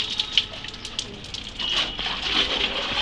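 Splashing, sloshing water as clothes and bed covers are washed by hand, irregular wet slaps and trickles close by, fairly quiet.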